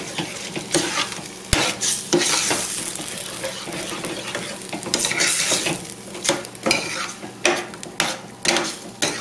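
Onions sizzle and fry in a hot pan while a utensil stirs and scrapes against it, with loud, steady frying noise and repeated clattering knocks throughout.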